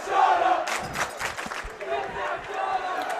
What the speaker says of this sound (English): Crowd now very into the game